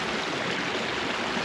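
A small stream flows in the rain, a steady, dense wash of rushing water, close and even throughout.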